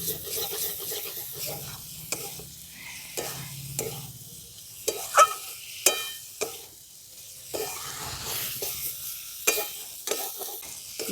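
Boiled potatoes being stirred into fried spice masala in a pan for aloo dum: soft scraping strokes of the spoon recur irregularly over a faint sizzle, close and quiet, with no talking.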